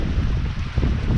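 Strong wind gusting at 15 to 25 knots roars steadily across the microphone aboard a sailboat off the west coast of Corsica near Bonifacio, a loud, continuous rush with a faint undertone of the sea.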